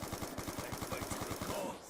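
Steady automatic gunfire in Call of Duty Zombies on the Origins map, an even rapid rattle of shots held for a couple of seconds at moderate volume against a busy game backdrop.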